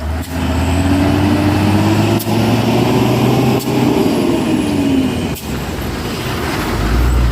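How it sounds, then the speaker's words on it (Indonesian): An Isuzu truck stalled on an uphill road after failing to climb, its engine droning loudly and steadily close by, with a few sharp clicks breaking the heavy mechanical hum. "Truk melon ya, molen. Gagal nanjak tadi"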